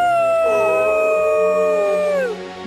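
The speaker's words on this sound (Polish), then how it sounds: "O nie, zbliża się kolejny wilk." A wolf in an animated children's cartoon gives a single long, loud, clear howl that holds steady, then bends downward and fades at the end.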